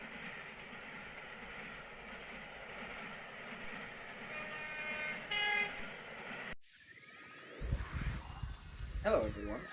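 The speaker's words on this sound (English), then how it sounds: "I'll take a train beyond Beaglington" A train rumbles steadily at a railway platform, with a brief brighter metallic squeal partway through before the sound cuts abruptly to a different, clattering scene.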